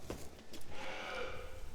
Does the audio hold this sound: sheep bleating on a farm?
yes